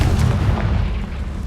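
A Confringo fire spell in the game Hogwarts Legacy goes off as a short, heavy, booming blast with a dull low thump that quickly decays into a rumbling tail, with no voices.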